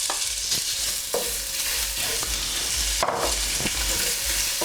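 Bacon dropped into very hot olive oil in a pan for a slow-cooked French beef casserole, a steady close sizzle with spatula scrapes and stirring clatter breaking through.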